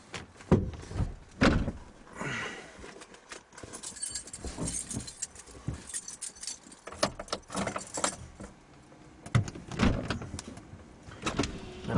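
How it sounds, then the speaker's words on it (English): A door on a broken-down truck is worked from inside the cab, with repeated close clunks, rattles and jangling keys in loud bursts. No one speaks. "have to reach outside my window to open and close my door."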